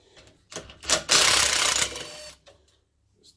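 A Makita power driver whirs in one short burst, lasting about a second, while backing a screw out of a Sealey air compressor at close range, with quiet clicks and handling before and after.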